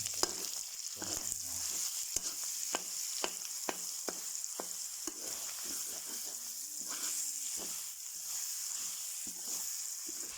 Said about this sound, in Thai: หลังจากใส่กระเทียมลงไปผัดตะโมแล้วครับ